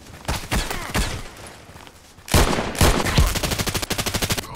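SOCOM rifle fire in the Contract Wars shooter game, a few sharp separated shots, then a louder burst followed by a rhythmic string of rapid close reports.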